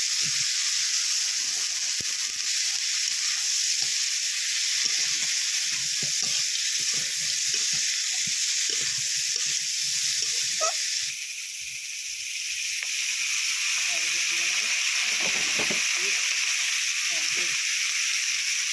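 Chopped onion and green chili hit hot oil already tempered with black cumin seeds, giving a loud, continuous sizzle with faint stirring and scraping underneath.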